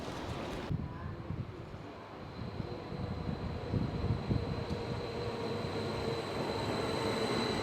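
Train in Novi Sad, Serbia: a continuous low rumble of railway cars rolling along the track, with faint wheel squeal and wind noise, steady and fairly close, no talk.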